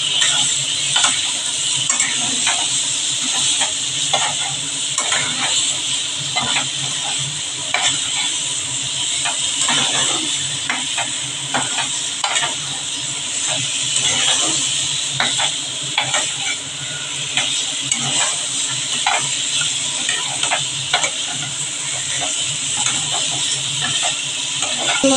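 Potato and pointed gourd sauté in a cooked spice paste, giving a loud, continuous sizzle with repeated scraping stirs throughout, close and busy.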